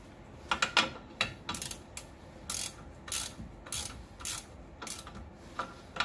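A hand ratchet works on the upper ball joint nut of a 2008-or-later Dodge 1500 pickup, giving close, sharp repeated clicking bursts in an uneven rhythm with short pauses between strokes.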